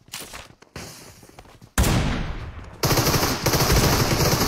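Rapid automatic gunfire in the PUBG Mobile shooter, several loud sustained bursts close by with short breaks between them, no talk.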